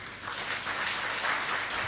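A church congregation claps together in a dense, steady patter, moderately loud and continuous for a couple of seconds, with no voices over it.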